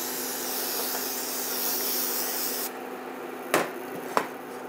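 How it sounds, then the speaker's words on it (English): A steady hissing spray from an aerosol can of nonstick cooking spray coating a pan runs for a few seconds, then stops, followed by two short clicks or taps. "I'm going to spray this with a nonstick cooking spray."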